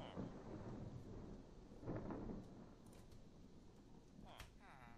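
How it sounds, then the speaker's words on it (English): A Minecraft thunderstorm from a localized weather mod: faint rain with a thunder rumble swelling near the two-second mark, quiet and distant, with a voice speaking over it. "There's your freaking storm."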